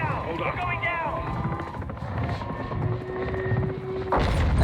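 A video game helicopter drones with a steady rotor and engine rumble beneath excited talk, a sustained mechanical hum that swells louder near the end.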